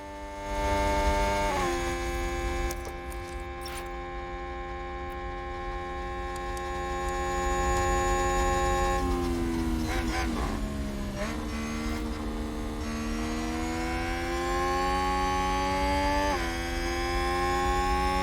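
Racing car engines in the F1 Manager 2022 video game drone continuously with a sustained harmonic whine, pitch shifting up and down as cars pass and change speed, loud and steady with no talk.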